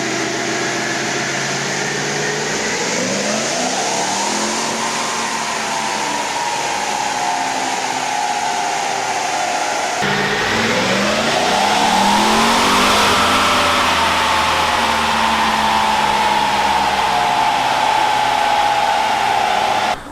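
A tuned car engine revs hard and close, rising and falling in two long sustained pulls with a loud, steady drone throughout and no talk.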